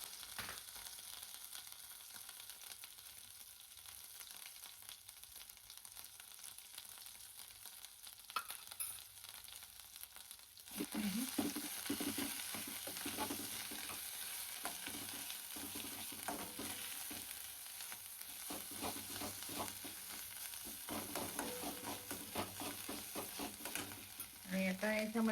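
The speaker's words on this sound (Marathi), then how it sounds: "तेल तापले, आता मी मोहरी घातली याच्यामध्ये" Mustard seeds and masala frying in hot oil: a soft, faint sizzle at first that turns into a much louder, crackling, spattering fry partway through, with stirring scrapes near the end.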